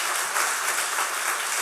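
A church congregation claps in welcome for elders aged seventy and over, producing a brief, even burst of crowd applause filling the room.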